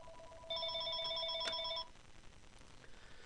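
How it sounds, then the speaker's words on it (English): A telephone rings once in a steady electronic burst lasting just over a second, fairly close, against a quiet background with no talk. "Sorry, had to take that phone call."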